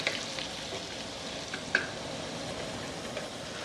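Food sizzles in bacon fat in a pot for loaded potato soup while a spoon stirs it, a steady close hiss of frying with a few soft scrapes and clicks, and no voices.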